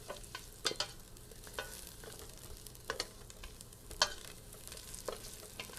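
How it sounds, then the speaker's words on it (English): Garlic rolls around in hot oil in a pan, a soft steady sizzle with a few faint clicks and scrapes of a utensil, quiet and close. "now I'm just taking this garlic and rolling it around my pan so that it is in the oil, just browning just ever so nicely"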